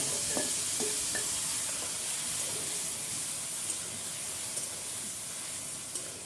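Potatoes fry with a paste of ginger, turmeric, green chili and spices in a pan, a soft, continuous sizzle broken by a few light clinks of stirring.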